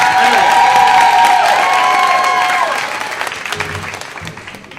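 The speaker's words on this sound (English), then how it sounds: "That applause going for Christopher." A theater audience at a Moth storytelling event gives a loud, sustained ovation with applause and cheering for the storyteller walking on. It fades into scattered claps and a host's voice.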